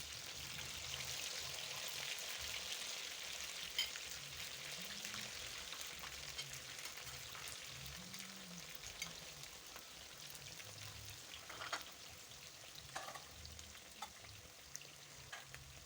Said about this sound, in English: So I start adding my potato wedges and wait for them to cook.